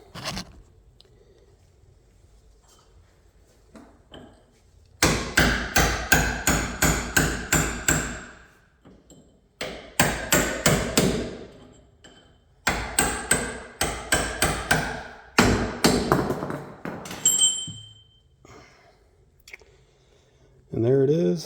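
Rapid bursts of metal hammer blows on a Honda Element rear wheel bearing, struck in quick series of about six to eight hits, separated by short pauses, loud and close.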